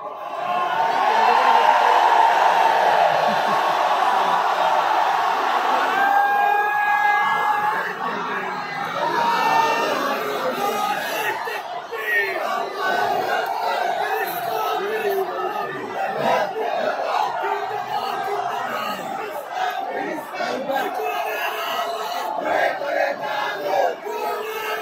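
A large crowd at an Islamic lecture gathering in Sylhet with Dr. Mizanur Rahman Azhari chants slogans in loud, rhythmic unison, a sustained roar of many voices lasting the whole stretch.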